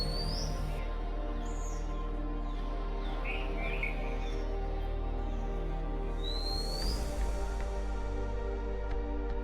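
Birds chirp and call at a temple in Adri village near Somnath, set close to the seashore, with scattered high tweets over a steady low background hum and no talking.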